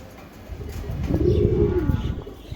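Racing pigeons coo up close, a soft, rolling, throaty call that swells and fades over a couple of seconds against a faint background hiss.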